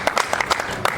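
An audience at a Congolese show claps in a short burst, a quick run of sharp, fairly loud hand claps lasting about a second, with faint voices mixed in.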